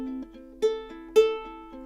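Ukulele plucked upward with three fingers in a picking pattern, a few soft repeating note groups with two sharper accented plucks, close and alone.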